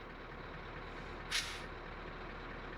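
A Scania truck's park brake releases air during a roadside brake test at a weighbridge, a single short sharp hiss that stands out over low steady background noise.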